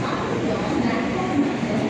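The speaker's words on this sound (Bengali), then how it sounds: "নাগপুর স্টেশনে আমাদের ট্রেন পৌঁছেছে অলমোস্ট 3 ঘন্টা লেটে" Train at Nagpur railway station, a steady loud rumble of rolling stock filling the whole moment with no clear breaks.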